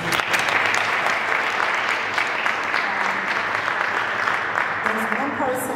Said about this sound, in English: I do want to give her a round of applause, please.